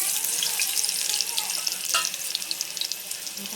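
Chopped onion hits hot oil for a tempering in a Konkan-style spinach preparation, giving a loud, continuous crackling sizzle with dense popping spatters throughout, close and without speech.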